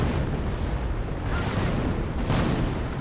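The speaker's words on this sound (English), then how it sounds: "Here comes the on-map artillery." On-map artillery shells land in a Company of Heroes match, a continuous heavy rumble of booming explosions that swells and rolls with no gaps, loud and close.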